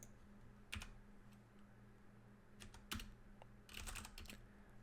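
Keys clatter on a computer keyboard as a bad password is typed, in quiet scattered clusters of clicks with short pauses over a low hum.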